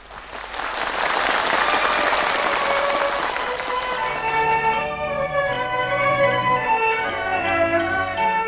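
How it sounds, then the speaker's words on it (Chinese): Audience applauds at a Yue opera concert, a steady dense burst of clapping that fills the hall, then fades as bright sustained instrumental tones of the opening accompaniment rise and take over. "我们掌声欢迎他"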